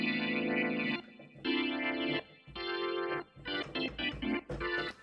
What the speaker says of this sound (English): vintage organ from Native Instruments.